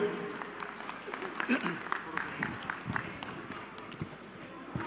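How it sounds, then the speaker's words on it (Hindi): Crowd applause at an outdoor political rally in Haryana welcomes a legislator: a busy mix of clapping and crowd noise sounds under voices and a loudspeaker announcer. "अपने प्यारे विधायक के लिए जोरदार तालियां बजा के स्वागत करें।"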